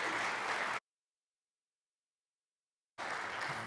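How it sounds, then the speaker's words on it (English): At a high school spring band concert, the audience applauds the band in two bursts of dense clapping, split by a long gap of total silence. "So give them a round of applause for it."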